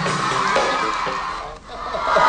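Fans scream and cheer loudly as a star appears on stage at the Pink Play concert, a sustained crowd roar of high-pitched shouting that dips briefly and then swells again.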